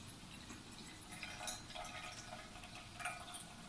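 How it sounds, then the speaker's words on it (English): Hot water poured in a steady, quiet trickle through a Japanese coffee dripper into a warmed vessel, close by and continuous with faint clinks and no talking. "Let me just pour this through."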